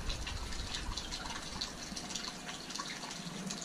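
Water from a pump line pours into a newly dug backyard pond, a soft steady trickle and splash running without a break, faint and close by.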